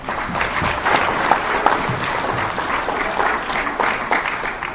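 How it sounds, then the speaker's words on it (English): A crowd claps steadily and loudly for several seconds, a dense wash of applause with no voices standing out. "Let's give her a round of applause."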